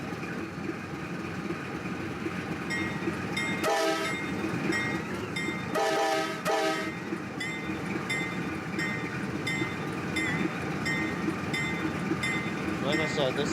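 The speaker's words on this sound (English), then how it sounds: "this is train 316 Bellevue, Ohio to Binghamton" NYSW freight train 316, running Bellevue, Ohio to Binghamton, rumbles past with clattering cars, and two loud horn blasts cut through partway in, with voices faintly underneath.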